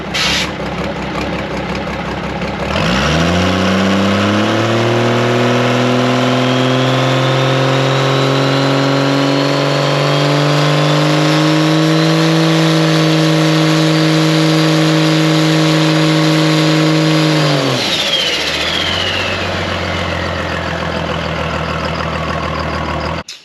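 A 12-valve diesel truck engine on nitrous revs up hard, holding a loud, rising drone for about fifteen seconds as the turbo spools, then drops back to a steady idle, loud and close with no talking.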